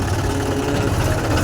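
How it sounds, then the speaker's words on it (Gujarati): A farm tractor runs with a loud, steady, low engine drone and rumble that fills the short stretch, with no voices. "ટ્રેક્ટર લઈને જાય છે ઘરે."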